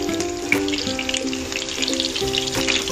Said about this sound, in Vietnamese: Khi dầu ăn sôi thì mình cho các lát cà tím vào trong chảo.